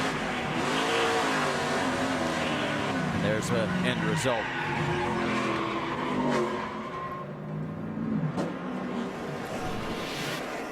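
NASCAR Nationwide Series stock cars roar around the track during the Bashas' Supermarkets 200, engines droning and rising continuously under a commentator's steady talk.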